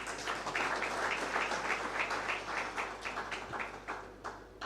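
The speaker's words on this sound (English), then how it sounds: "let me request the people to show you a lot of love through clapping" An audience at an insurance brokers' conference in Uganda claps to welcome a guest, a steady, faint roomful of applause without talk.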